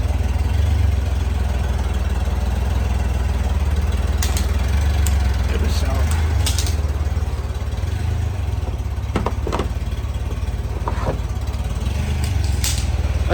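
A 1994 Honda Goldwing 1500 Aspencade motorcycle engine runs steadily close by, a continuous low droning idle throughout, with a few brief sharper sounds scattered over it.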